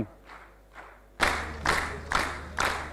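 Applause for students at a school quiz competition, heard as a few rhythmic waves of group clapping, faint at first, then louder and nearer in repeated swells.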